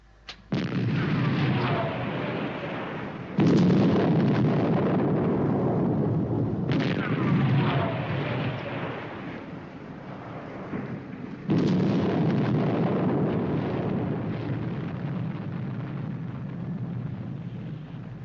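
Detonations of atomic charges, a series of deep, massive booming blasts each followed by a long roaring rumble, loud and sustained, several distinct explosions overlapping across the span.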